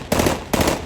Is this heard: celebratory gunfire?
yes